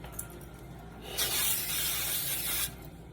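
Cooking spray is sprayed into a casserole dish in one close hissing burst lasting about one and a half seconds, alone in a quiet kitchen.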